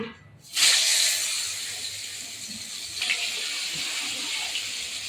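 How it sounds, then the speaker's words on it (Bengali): A sudden loud hiss bursts out as sliced pointed gourd hits hot oil in a pan, then settles into a continuous sizzling spatter. "এই দেখো পটল ভাজাটা দিয়ে দিচ্ছি"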